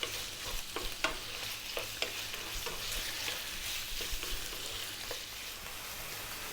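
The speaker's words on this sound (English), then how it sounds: "I'm going to do is for 6 minutes, I'm going to just cook this meat" Beef cooking in a pan over medium heat gives a steady broadband sizzle with scattered scrapes and taps from stirring, close and even throughout, with no voices.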